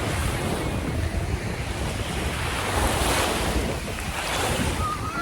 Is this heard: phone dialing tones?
no